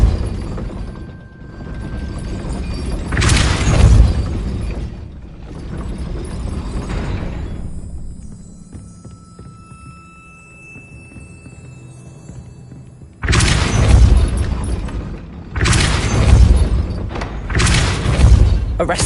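Depulso spell impacts in the Hogwarts Legacy video game: heavy booming whooshes with crashing debris, arriving in separate bursts of a second or two, loud and close, with quieter mechanical clatter between them.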